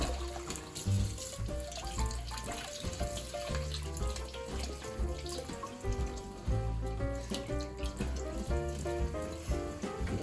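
Tap water runs steadily while the leaves of a small charcoal-potted houseplant are rinsed under it, a close continuous splashing gush with shifting patter as the leaves move through the stream.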